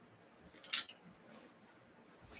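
Keys jingle briefly and close by, a bright metallic rattle lasting under a second before quiet room tone returns.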